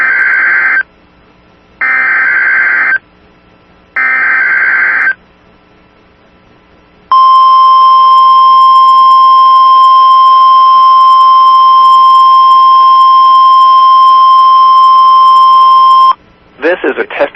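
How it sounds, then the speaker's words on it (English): A public warning alarm system test plays over a local TV broadcast: three loud, evenly spaced beeps, then one long, steady tone held about nine seconds before cutting off. "This is a test of the public warning alarm system."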